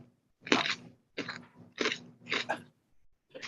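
Loud, close chewing of food right at the microphone, four or five distinct crunchy bursts of biting and mastication separated by short pauses, with no speech over it.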